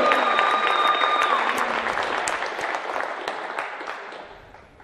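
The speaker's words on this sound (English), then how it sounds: "Ladies and gentlemen, a round of applause." A crowd in a school gym at a girls' basketball game applauds the senior players in a loud, sustained ovation that slowly fades, with a brief tone audible near the start.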